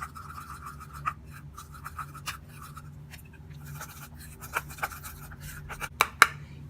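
A lemon face pack paste is stirred in a bowl, making soft scraping and scratching strokes with irregular sharper clicks and taps, quiet and close with no talking.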